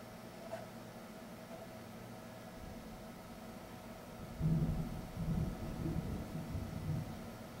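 Thunder from a passing storm rumbles low and distant, swelling into a deeper rolling roll about halfway through, over a steady background hiss indoors, with no talking.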